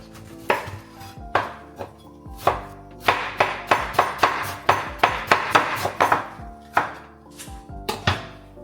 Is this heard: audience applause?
no